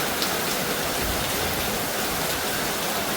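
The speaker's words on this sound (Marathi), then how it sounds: "केरळमध्ये पुन्हा मुसळधार पाऊस चालू झाला आहे" Dense, continuous roar of heavy monsoon-style rain pouring down in Kerala, steady and loud with no pauses.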